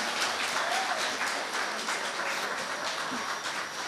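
Applause for the Farmer of the Year 2018 award winner at the St. Lucia Industrial and Small Business Awards, a steady, dense wash of clapping from a large audience filling the hall without pause.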